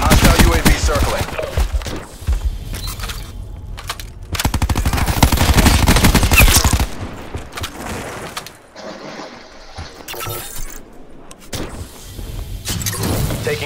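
Rapid bursts of automatic submachine gunfire from a Call of Duty: Black Ops 4 multiplayer match, loud and close in dense rattling volleys with brief pauses between, a clipped in-game announcer voice appearing faintly.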